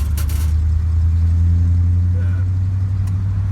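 A Ghostbusters Ecto-1 replica car built by Bob's Prop Shop drives along with a loud, steady low engine drone throughout, and a voice is briefly heard over it.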